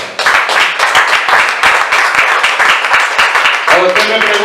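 A church congregation applauds the Lord during a Sunday sermon on David's battle, with loud, close, rhythmic clapping in quick bursts. Voices join in near the end.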